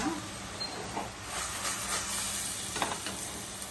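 Anchovies fry in a pan for an anchovy fish curry, giving a steady, close hissing sizzle with faint stirring and no voices.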